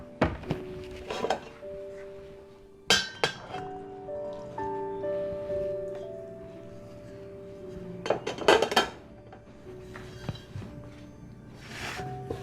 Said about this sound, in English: we're gonna put the noodles in our bowl so we can mix everything together